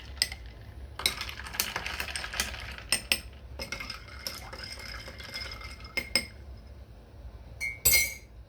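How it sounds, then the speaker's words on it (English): Iced coffee stirred in a glass, with repeated bright clinks of a spoon and ice against the glass in irregular bursts, close up and without talking. "I'm going to stir them so we can have the flavors evenly distributed."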